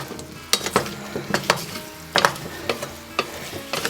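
Pumpkin pieces pushed around a pan with onions in butter and oil for pumpkin soup, steady sizzling frying under irregular knocks and scrapes of a utensil against the pan, close and moderately loud, no voices.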